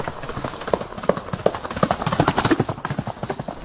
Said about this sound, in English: The fastest speed at which a horse can run, with a stage in which all 4 feet are off the ground together.